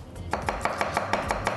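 A knife chops garlic cloves on a cutting board, a steady run of about nine quick, crisp taps close up, with no talking.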